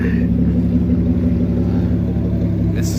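Turbocharged car at a weekday Daikokufuto car meet in Japan: a loud, steady low engine drone with rich rumbling harmonics, close by, idling or cruising, with a brief voice near the end.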